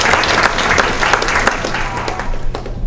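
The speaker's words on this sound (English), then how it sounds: "let's give the chief a big round of applause" A crowd applauds the police chief at a mayor's community night out, steady dense clapping with a few sharper claps, slowly thinning toward the end.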